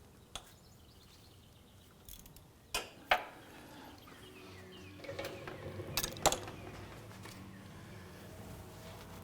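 A ratchet works at the crankshaft pulley bolt on a 2001-2005 Honda Civic, quiet and close: a few sharp metallic clicks and clacks spaced over several seconds, then a short burst of ratcheting and tool taps against a low background hum.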